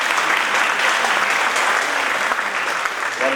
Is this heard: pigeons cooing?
no